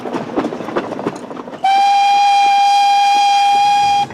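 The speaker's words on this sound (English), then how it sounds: "This is the most fantastic train, isn't it?" A steam train on a Victorian railway line rumbles and chuffs, then a loud, sustained steam whistle cuts in and holds steady for over two seconds, close by, with no voices.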